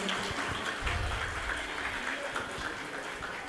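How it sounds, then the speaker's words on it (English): Audience members at a school Vidyarambham ceremony for nursery pupils applaud two young students, giving a fairly faint, steady round of clapping from across the room. "give them a resounding applause for their confidence"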